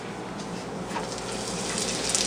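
Lumpia shanghai frying in hot oil in a pan, giving a steady, dense hiss with a light bubbling crackle that holds at an even level throughout.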